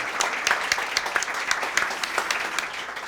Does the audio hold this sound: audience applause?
yes